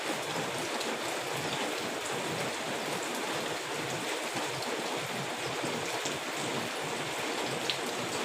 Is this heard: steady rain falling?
yes